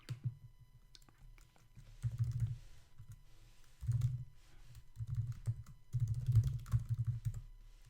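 Someone types on a computer keyboard, with bursts of quiet, rapid key clicks separated by short pauses, nearby and with no voices.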